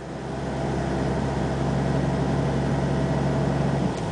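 A Toyota Land Cruiser 80 with the 4.2 TD diesel engine idles steadily and close by, a continuous low diesel rumble with an even mechanical hum that holds constant throughout.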